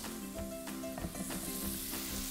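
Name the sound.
scallops sauteing in a pan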